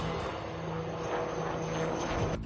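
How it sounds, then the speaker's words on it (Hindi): Indian Coast Guard ALH Mark III advanced light helicopter performing at an air show: a loud, continuous rotor and turbine roar with a steady whirring drone, filling the scene without a break. "इंडियन कोस्ट गार्ड का एडवांस लाइट हेलीकॉप्टर MK3, जो तटरक्षक के रूप में समुद्री इलाकों में दुश्मनों से रक्षा करने के लिए तैनात है, एयर शो में दुनिया के सामने अपना करतब दिखा रहा है।"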